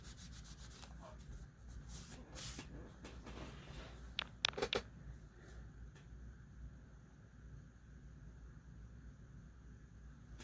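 A hand rubs across a composition notebook page to smooth it flat, making soft, faint papery swishes in short repeated strokes, with a few sharper crinkles midway, heard close and quiet.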